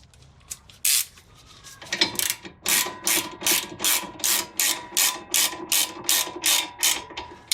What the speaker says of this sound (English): you can tighten it on this nut right there